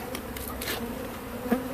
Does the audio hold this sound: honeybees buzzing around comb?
yes